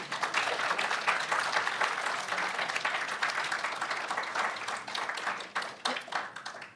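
Audience applause after student final presentations at a nanoscience lab summer institute: dense, continuous clapping from a room full of people, fairly soft and sustained for several seconds before tapering off, with no voices heard.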